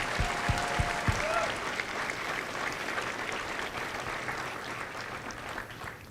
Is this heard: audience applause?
yes